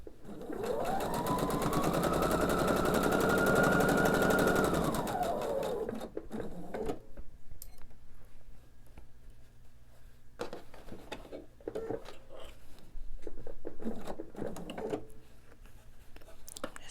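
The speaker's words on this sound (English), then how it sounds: "I'm just going to lightly tug as I sew along this piece and ease those together." A sewing machine stitches fabric triangles for a pillow, running in one steady, close whir for about six seconds before stopping, followed by soft clicks and rustles of fabric being handled.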